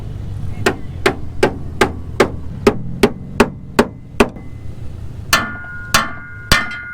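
Hammer banging on Mustang rally car body work near the exhaust and frame, a steady series of about a dozen sharp metallic strikes, then three louder ringing blows after a pause.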